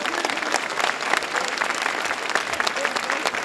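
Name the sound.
audience applause at award ceremony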